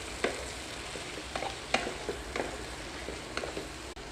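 Tomatoes fry with already-fried garlic in a pan for chicken curry, giving a steady soft sizzle with occasional close stirring scrapes and clicks, no talking.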